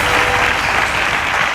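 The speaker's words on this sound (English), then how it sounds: "Round of applause for them." Loud, close, dense applause from a quiz show studio audience for two contestants who have reached the semi-finals, a brief continuous wash of clapping.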